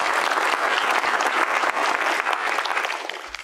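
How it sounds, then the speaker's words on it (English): An audience at a county update panel gives a round of applause for event sponsors, the clapping dense, loud and continuous, tapering slightly at the end. "So if we could give everybody a quick round of applause for our sponsors."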